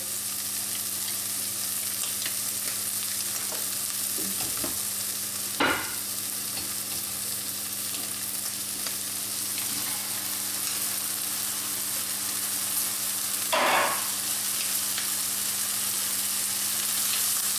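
A wild pork leg browns in oil in a hot pan with a constant, even sizzle and spatter, broken twice by a brief louder hiss or shift of the meat.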